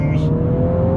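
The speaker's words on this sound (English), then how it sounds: "I thought I'd just quickly pull over to show you the acceleration greatly." A MINI GP3's engine pulls hard under acceleration, a loud steady drone heard from inside the car across one short continuous burst, with no talk.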